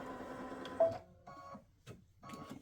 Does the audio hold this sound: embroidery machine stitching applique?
yes